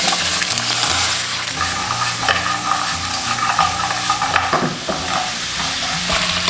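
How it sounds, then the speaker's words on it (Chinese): Pork ribs stir-fry in caramelized rock sugar in a wok, giving a continuous loud sizzle with frequent scraping and tossing sounds from the spatula, close up. "炒成这样焦糖色，就可以下入排骨翻炒。"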